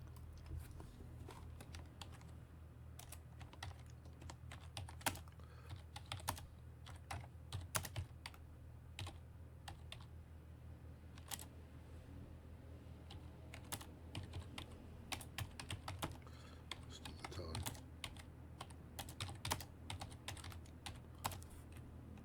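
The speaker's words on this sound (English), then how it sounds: "Sorry, you can see my glorious typing" Steady typing on a computer keyboard, close and fairly quiet, with irregular rapid key clicks running continuously over a low background hum.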